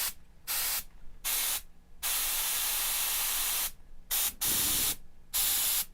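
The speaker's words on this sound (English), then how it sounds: "got your exhaust, got your white noise" Bursts of harsh white-noise hiss, like a spray or exhaust blast, switching on and off in short chops with one longer sustained stretch.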